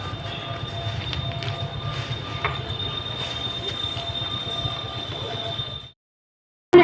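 A slow suburban local train stands at a station platform, giving a steady rumbling drone under a high, sustained wheel-squeal tone with faint clatter, then cutting to silence near the end.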